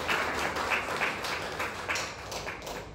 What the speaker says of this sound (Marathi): पुन्हा एकदा जोरदार टाळ्या वाजवा